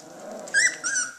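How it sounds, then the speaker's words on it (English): A three-week-old puppy growls and whimpers in short bursts, close by and fairly quiet, with two stronger squealing growls near the end. "You're growling."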